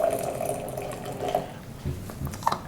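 Hot water is poured from a thermos into a glass, giving a soft, steady liquid trickle with a few small splashes, close by and fairly quiet.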